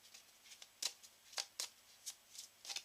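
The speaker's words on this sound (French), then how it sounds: "Et on va piocher" Cards handled and drawn from a deck during a tabletop session of The 7th Continent, a string of quiet, crisp flicks and slides at irregular intervals, close and soft, with no voices.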